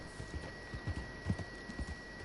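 Horse hooves clip-clop at a steady walking pace in the Red Dead Redemption Online video game, a run of close, moderately loud hoofbeats over a constant low background hum with no talking.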